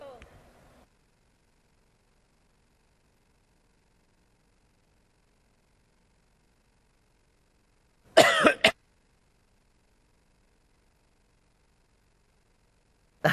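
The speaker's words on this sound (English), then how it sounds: "I'm going to cough now." A single short cough bursts out of near silence, loud and close, followed by a long quiet stretch.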